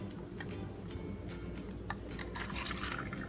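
Kangen water poured into a cup holding a tea bag, a soft liquid trickle with scattered drips and splashes that grows a little fuller toward the end, heard up close over faint background hiss.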